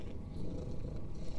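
A cat purrs in a horror video game, a soft, steady low rumble that continues evenly throughout with no talking over it.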